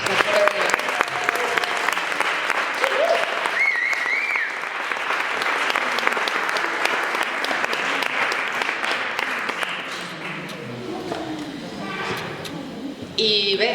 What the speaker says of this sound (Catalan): Un fort aplaudiment per a la gent que ens està fora